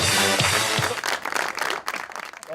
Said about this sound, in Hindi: तो इस पे भी तालियां वाकई बनती हैं